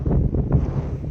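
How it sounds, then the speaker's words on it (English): Strong wind buffets the microphone outdoors as a blizzard approaches, a steady low rumbling roar with gusty swells that stays loud and close throughout, with no talk. "the wind is actually starting to pick up here"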